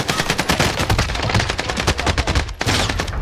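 Loud, rapid automatic gunfire in Call of Duty Warzone, dense bursts of close shots that rattle almost without pause, with a brief gap near the end before firing resumes.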